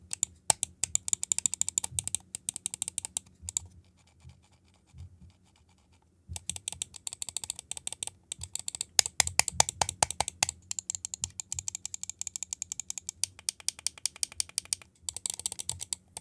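Rapid bursts of sharp button clicks from a GamePro Surt gaming mouse, crisp and moderately loud, in fast rhythmic runs with a couple of short pauses, no voices.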